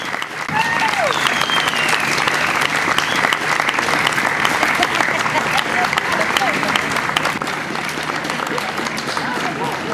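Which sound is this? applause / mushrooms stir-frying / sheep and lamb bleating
applause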